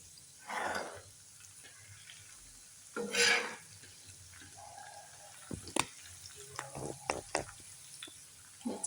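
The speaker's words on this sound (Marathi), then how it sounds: "आता हे सगळं टाकल्यानंतर आपल्याला एकच काम की हळूहळू हलवत राहायचं." Soybeans frying in a pan over a low gas flame as they are stirred, giving soft scraping swishes and faint sizzling in a quiet kitchen, with a few light clicks of the utensil toward the end.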